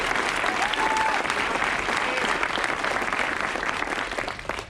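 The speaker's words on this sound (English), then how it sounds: "can we have a round of applause for Anthony Roy?" An audience claps at a US Air Force retirement ceremony, producing dense, steady applause that holds for several seconds and then begins to fade at the end.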